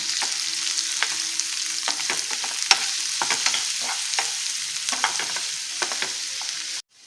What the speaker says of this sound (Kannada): ಈರುಳ್ಳಿ ಸ್ವಲ್ಪ ಕೆಂಪು ಬಂದಕ್ಕೆ ಆಗಿ ಫ್ರೈ ಮಾಡ್ಕೊಳ್ಳೋಣ